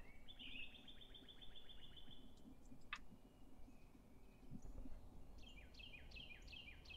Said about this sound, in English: The bird sounds are great.